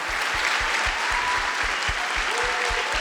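A church congregation applauds in a steady, full wash of clapping, with a regular low thumping beat running beneath it.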